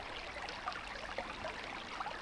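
A small river flowing in open countryside, steady broadband rushing and babbling water with faint splashes, continuous and moderately near, no talk.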